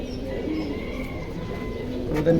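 A pigeon coos softly at a bird market during an Eid sale, a low rolling call heard fairly close over a faint background murmur.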